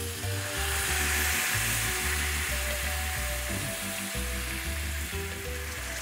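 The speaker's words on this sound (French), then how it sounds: "Et puis on va mouiller au bouillon." Rice frying in fat in a pan sizzles loudly and steadily as broth is poured in, a dense continuous hiss with low rumbling bubbling underneath, with no talking.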